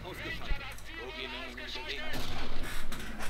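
Mortar fire in the WWII strategy game Company of Heroes, dull booming impacts and battle noise rumbling continuously under someone speaking German, with a sharp hit early on and heavier blasts toward the end.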